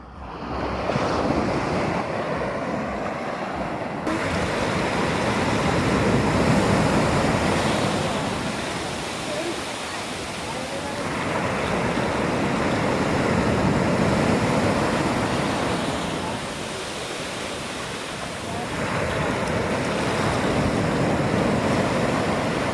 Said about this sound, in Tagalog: baka tangayin ka ang alon dyan ha